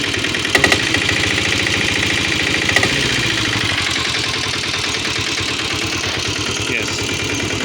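A Royal Enfield Bullet motorcycle with a diesel engine runs close by with a crude, rapid knocking thump, idling with a couple of brief revs early on, and the mechanical clatter stays loud and steady throughout.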